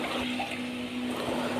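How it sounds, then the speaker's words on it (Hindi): A glass of water poured into a pan while making shakkarpare syrup, a steady close rushing pour lasting a moment with no talk. "दूसरी जानब एक पैन में 1 गिलास पानी डालें"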